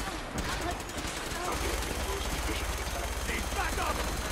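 Rapid gunfire in a Fallout 4 combat scene, dense bursts of shots rattling continuously over a low droning background, with game voices calling out amid the shooting.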